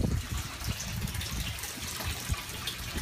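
Water pours constantly into the main sump tank of a dual-loop aquaponics system, a steady close gushing and splashing with no talk.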